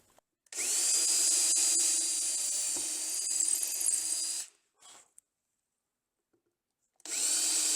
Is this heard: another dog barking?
no